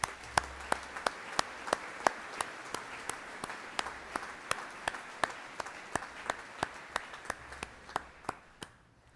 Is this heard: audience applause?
yes